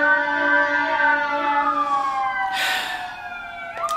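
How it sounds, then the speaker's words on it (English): Emergency vehicle sirens wail outdoors behind an indoor scene, their steady rising and falling tones holding loud and close for several seconds before a brief sharp knock near the end. "sorry for the sirens,"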